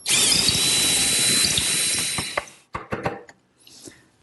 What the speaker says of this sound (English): I simply take my 3/8 inch bit, put it through the hole I drilled earlier